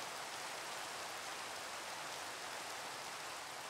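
Rain in Minecraft falls as a steady, even hiss of fine drops, continuous and soft, with no voices over it.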